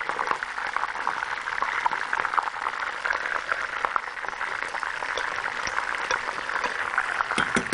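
Boiling water poured into a pot of chicken thighs and rice, a steady bubbling, gushing wash of liquid that runs continuously and evenly at close range.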